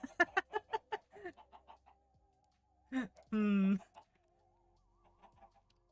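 Video game chickens cluck in a quick run of short calls, followed later by a louder squawk and a drawn-out cry, with quiet gaps between, while a person talks nearby.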